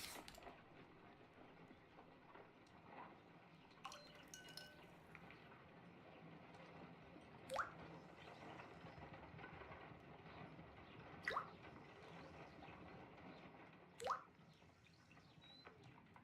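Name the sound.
pipette dripping hydrogen peroxide in Sherlock Holmes video game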